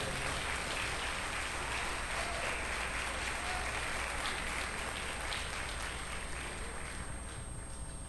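A church congregation applauding during a sermon, a dense, continuous roar of many hands clapping at once, loud and sustained throughout, easing slightly toward the end.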